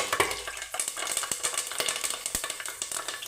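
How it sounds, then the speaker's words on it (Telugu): Curry leaves crackle and sizzle in hot oil while a large batch of chicken curry is started, a dense, steady frying hiss with quick pops and occasional scraping stirs. "ఆయిల్ పోసుకొని హీట్ ఎక్కిన తర్వాత ఫస్ట్ కరివేపాకు వేసుకుందాం."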